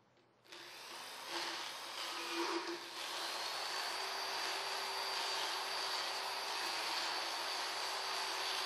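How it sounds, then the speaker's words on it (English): Motorized power float with a grinding wheel filing a horse's lower teeth, a steady high whirring drone that starts abruptly and continues evenly, close and fairly quiet. "Then slide the grinding wheel across the horse's mouth"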